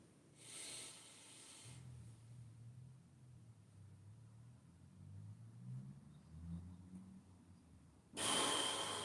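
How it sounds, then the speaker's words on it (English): Slow, deep breathing during a guided breathing meditation: a long drawn-out inhale and exhale, soft and close in near-quiet, with a sharp hiss of air at the start and another at the end. "Take the second deepest breath of the day."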